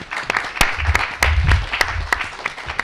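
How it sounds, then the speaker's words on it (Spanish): An audience claps for a commercial high school, the Instituto Comercial Padre Alberto Hurtado, at a science outreach event. The applause is dense and steady, with sharper individual claps standing out. "un aplauso para el Instituto Comercial Padre Alberto Hurtado"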